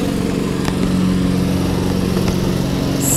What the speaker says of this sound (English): Sorry if you hear a lawnmower.